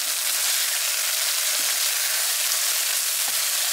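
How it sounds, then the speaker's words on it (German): Chicken breast fries in a pan with onions and garlic, giving a loud, steady sizzle with a few faint pops and no voices. "Mit Zwiebeln, Knoblauch das Ganze angebraten."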